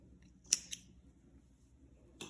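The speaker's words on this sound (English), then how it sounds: "You can clip the ends, and my scissors have disappeared." Scissors snipping yarn ends on a crochet sweater, two crisp close snips in quick succession and a third a moment later, in a quiet room.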